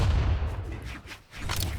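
Repeated booming blasts and gunfire-like bursts from a video game, loud and close, with a brief lull partway through before another burst.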